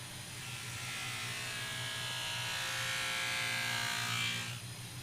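A buffing wheel with buffing compound sharpens a hoof knife, a steady whirring grind held near and loud for several seconds before easing off, with no talking.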